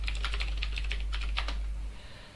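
Rapid keystrokes on a computer keyboard as a password is entered while setting up a GitHub project in Android Studio, a close, steady burst of clicks over a constant low hum, ending abruptly.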